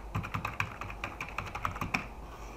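Someone types a password on a computer keyboard: a steady run of quick, close key clicks with small pauses and no voices.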